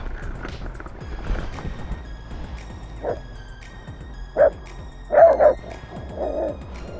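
A few distant dog barks from terriers sound in short bursts over steady outdoor background noise, with a pair of quick barks near the end.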